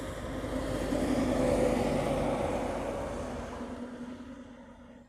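A NASA aircraft departs from the reef runway at Honolulu airport, a steady, fairly loud engine roar that swells over the first couple of seconds and then slowly fades as it climbs away.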